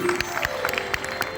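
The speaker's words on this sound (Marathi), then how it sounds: "खास साहेबांसाठी एकदा जोरदार टाळ्या वाजवायच्या आहेत" A crowd at an outdoor village Shiv Jayanti celebration claps, short scattered applause with a low tonal hum running beneath it.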